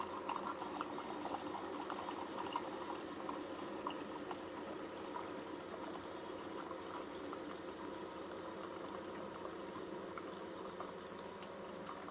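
A Keurig single-serve coffee maker brews an 8-ounce cup with a steady, quiet bubbling and hissing gurgle of hot water that runs unbroken throughout, faint and close, with no voices.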